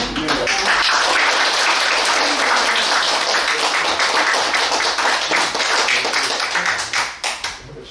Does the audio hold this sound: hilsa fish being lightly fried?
no